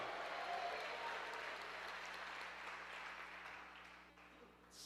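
Congregation in a church applauding, a dense steady wash of clapping that fades gradually over a few seconds.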